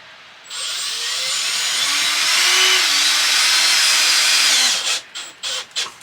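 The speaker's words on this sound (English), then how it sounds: "always turn your drill down so that you don't blow it out" A power drill whirs loudly and steadily for several seconds while driving a screw, then cuts off and gives a few short, quick bursts at the end.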